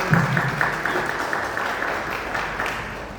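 A conference audience claps together in a dense, steady wash of applause that slowly fades a little toward the end.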